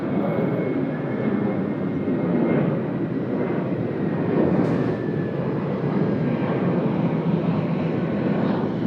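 Emirates Airbus A380 rolling along a taxiway at Sydney Airport, a steady, loud broadband jet engine roar that holds evenly throughout without a break.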